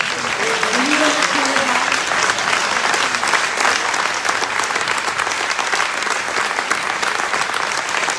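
A concert audience gives the conductor a loud, sustained round of applause, dense clapping filling the hall steadily, with brief voices near the start.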